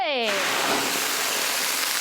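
Water poured into bubbling caramelized sugar in a wok gives a sudden loud, steady hissing sizzle that continues throughout, following a brief tonal sound at the very start.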